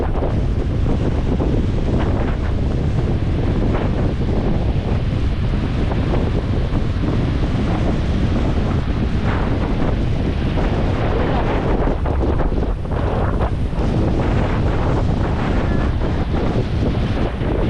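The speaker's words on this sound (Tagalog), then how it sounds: "Lakas sa hangin, laki ng alon." Loud, constant wind buffets the microphone over the steady roar of big crashing surf during a typhoon, with a voice or two faintly mixed into the blustery noise.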